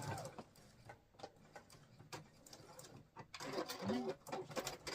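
A sewing machine stitches vinyl with its side down on the machine bed, a steady quiet mechanical whir with irregular pulses running under faint room noise throughout.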